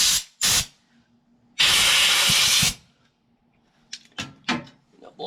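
Bursts of compressed air hiss through the oil ports of a chainsaw bar during cleaning: two short blasts, then a long steady spray lasting about a second, followed by a few brief clicks and taps of handling.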